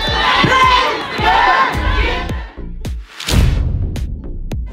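Protest crowd chanting a slogan in unison, loud rhythmic shouted phrases repeating with short gaps, a large group close by.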